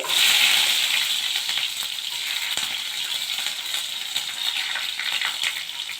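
Mustard seeds and garlic crackle in hot oil for tamarind rice, a bright, continuous close sizzle with scattered pops and one sharp tick from a utensil against the pan.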